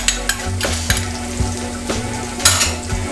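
Scallion and onion sizzle loudly in a pan for Jamaican seasoned rice, with repeated close scrapes and knocks of a utensil stirring against the pan and a low steady hum underneath.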